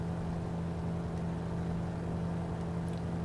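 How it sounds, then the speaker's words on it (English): A small aircraft's engine drones steadily in flight over a mountain range, a loud continuous hum with a strong low tone throughout and no talk. "I'm not sure why my engine is making that strange noise."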